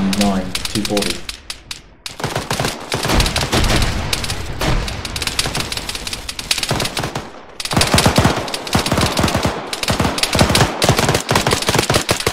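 Dense ARMA 3 video game gunfire, rapid automatic bursts and single shots crackling loudly and continuously throughout, with players' voices talking over the shooting.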